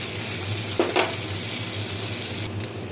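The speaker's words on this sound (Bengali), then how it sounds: "দেখুন শুধু গোটা গরম মশলা ফোড়ন দেবো।" Whole garam masala sizzles in butter in a pan, a steady close frying hiss with a couple of brief crackles and stirring clicks.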